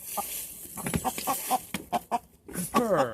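A rooster gives a series of short clucks followed by a rising, wavering crow-like call, nearby and fairly quiet.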